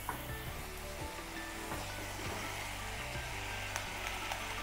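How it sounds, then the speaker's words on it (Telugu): Eggs going into cluster beans that are already frying in a pan, giving a steady, close sizzle and hiss with faint scraping and stirring sounds throughout. "ఇప్పుడు ఇందులో ఎగ్స్ వేసేసుకుందాము."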